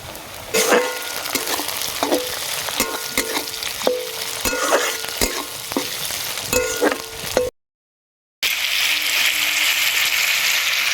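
Shrimp and onions fry in a wok, a loud constant sizzle punctuated by regular clacks and scrapes of stirring, then a short silence followed by a steadier, hissing fry.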